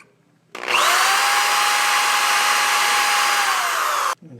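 A power drill whines steadily for about three and a half seconds while boring a hole in a steel lawnmower blade, loud and close, starting and stopping abruptly with no talk.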